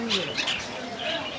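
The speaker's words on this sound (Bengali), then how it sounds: "আচ্ছা এখানে অনেক রকমের পাখি পাওয়া যায় এখানে" Pet finches and cockatiels chirp in bright overlapping bursts nearby, with soft background noise and no clear speech.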